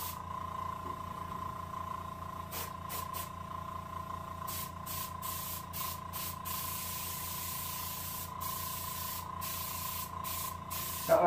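Paint sprays onto a rainbow trout mount for taxidermy in short bursts of airbrush-like hissing, separated by pauses, over a steady hum of equipment.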